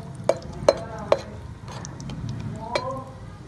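Nuts fry in a pan for gur ki panjeeri while a utensil stirs them, giving a few sharp metallic clinks and scrapes over a low, soft sizzle, with no speech.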